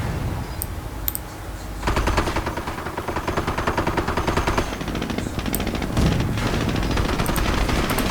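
Rapid machine gun bursts rattle through a Company of Heroes battle, dense and loud, with overlapping gunfire and scattered shots continuing almost without pause.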